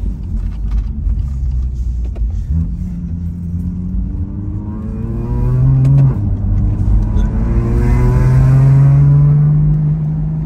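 A methanol-fuelled car engine rumbles loudly and close, then revs up in rising sweeps, the pitch climbing and swelling toward the end, with no talk.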